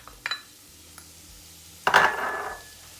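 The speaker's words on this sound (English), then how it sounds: "we're just gonna get the shallots in" Shallots drop into hot oil in a pot for pork fried rice, giving a sudden loud sizzle that fades over about a second, after a few light utensil clinks nearby.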